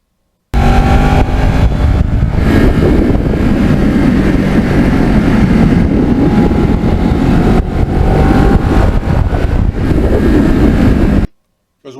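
A Kawasaki Ninja motorcycle rides along with a steady, loud engine drone mixed with heavy wind rush. The sound holds constant for nearly the whole stretch before cutting off sharply near the end.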